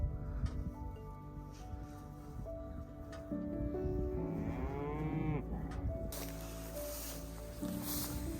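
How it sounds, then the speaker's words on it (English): Cattle on a Nebraska farm moo loudly and close by, several drawn-out calls overlapping with rising, wavering pitch over a steady outdoor background, with a burst of wind or rustle near the end. "All these cows just ran up to say what's up."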